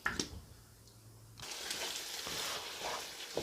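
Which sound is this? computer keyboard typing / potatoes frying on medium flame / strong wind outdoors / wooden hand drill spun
potatoes frying on medium flame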